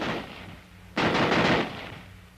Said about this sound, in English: the rifle will continue to fire as long as the trigger is held back.